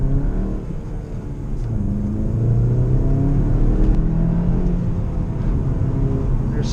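A warmed-up car accelerates down a hill, its engine rumble swelling and holding loud and steady from inside the cabin.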